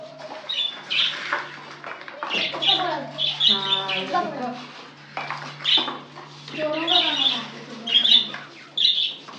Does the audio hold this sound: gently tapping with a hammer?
no